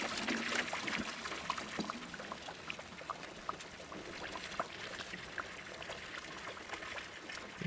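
Beer pouring into a container while brewing in the Brewmaster game: a steady, fairly quiet trickling wash with small splashy ticks throughout, no talking.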